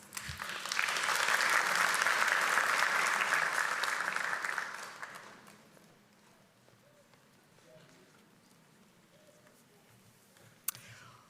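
Convocation audience applauding new graduates at a college ceremony, a dense wash of clapping that swells for about five seconds, then fades into a quieter room with a sharp click near the end.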